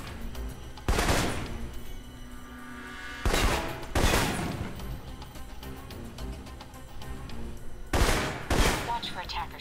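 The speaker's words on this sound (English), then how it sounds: "Long-range encounters, the assault rifle's the key. It's accurate, powerful." Assault rifle fire in the espionage video game Alpha Protocol comes in several sharp bursts spaced a few seconds apart, over a steady game ambience and soundtrack.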